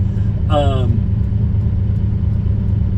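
Steady low road rumble of a Lamborghini Countach cruising at speed on the highway, with a brief rising whine near the start.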